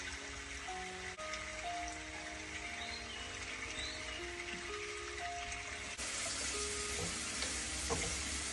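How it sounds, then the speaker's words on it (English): Shredded cabbage stir-frying with salt in a pan, a soft steady sizzle heard at low level with faint background tones, no voices. "Cabbage is tender. Stir fry is ready."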